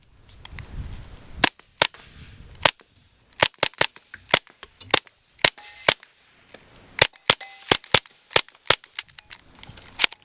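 A suppressed Taurus TX22 Gen2 .22 pistol fires roughly twenty sharp cracks in irregular quick bursts with short pauses between them, loud and close, with faint handling noise between shots.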